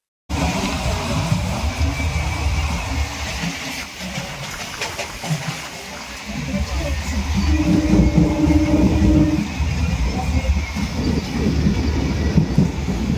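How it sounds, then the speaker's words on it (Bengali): A Burdwan-to-Howrah local train rumbles and rattles along, a steady, loud, low roar with a hissing wash on top that swells a little in the second half, with no speech. "বর্ধমান টু হাওড়া লোকাল ট্রেনের ঝাঁকুনিতে দুলতে দুলতে"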